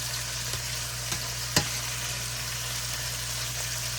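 Chicken thighs sizzling and frying in a pan, a steady loud crackling hiss with a low hum underneath and a few faint taps and one sharper knock as pieces are moved.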